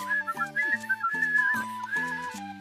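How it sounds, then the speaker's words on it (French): Person whistling a bright, wavering melody, loud and close over a plucked musical accompaniment, continuing throughout. "Bah, je siffle, on sait jamais."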